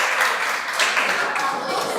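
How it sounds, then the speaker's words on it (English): An audience at a career guidance program claps briefly, scattered applause that stays fairly even across two seconds, with a voice talking over it. "why are you guys clapping?"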